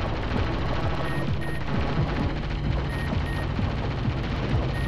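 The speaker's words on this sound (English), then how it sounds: "Got a gun here. Shoot them." Rapid, continuous gunfire from vehicles in the PS1 racing game Hi-Octane, a dense, steady rattle of shots held for several seconds over a low engine drone.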